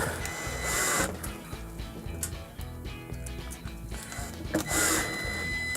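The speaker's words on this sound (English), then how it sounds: "Next, we're gonna reapply our screws." Mechanical whirring of a power screwdriver in short bursts, driving screws back into a Whirlpool washing machine, with clicks and rattles between runs, close by.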